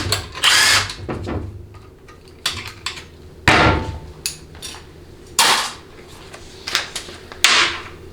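A power tool removes a 13 mm bolt on the detent roller during a 700R4 transmission teardown: short, loud, close whirring bursts repeat several times, separated by clinks of metal parts and tools.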